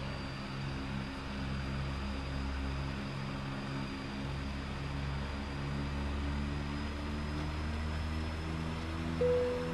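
Steady twin-engine drone of a DH-6 Twin Otter turboprop idling and taxiing toward the runway in Flight Simulator X, a continuous low hum with a faint high whine throughout, no talk.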